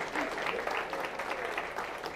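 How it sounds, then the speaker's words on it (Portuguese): Audience at a corporate cybersecurity event applauds an executive, a dense, steady burst of clapping with crowd murmur mixed in throughout. "Uma salva de palmas para o Daniel."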